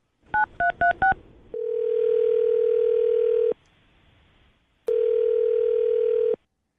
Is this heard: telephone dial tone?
yes